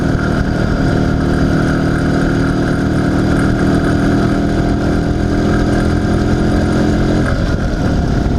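An IZh Planeta 5 motorcycle engine runs steadily and loud close by after a crankshaft seal replacement, with a faint piston-pin knock said to sit within its dense, continuous drone; no voices.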